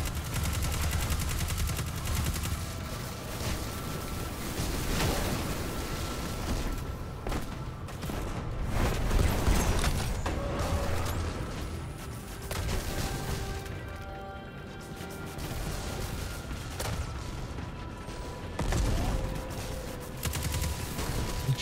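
Rapid gunfire from the video game Destiny 2 Lightfall rattles continuously in dense bursts, mixed with clattering impacts and game effects, loud and sustained throughout.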